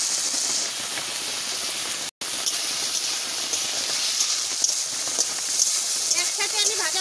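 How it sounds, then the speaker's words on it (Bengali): Potatoes and onions fry in hot oil with a loud, continuous sizzling hiss that barely breaks, steady and close throughout. "তেল গরম হয়ে গেছে, আমি আলু পেঁয়াজ দিয়ে দিচ্ছি।"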